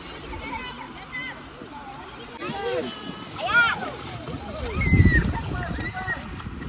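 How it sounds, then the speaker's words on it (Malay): Children bathe and splash in a river at a campsite, with sloshing water and louder splashes near the end, under overlapping children's voices and shouts. "Jom kita tengok anak-anak mandi sungai."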